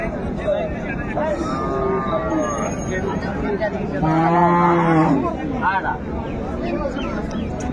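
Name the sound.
cow and calf mooing at cattle market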